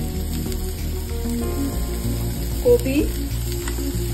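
Carrot, cabbage and onion stir-fry over a high flame, a steady sizzle with stirring and some clinks throughout, while a person talks over it.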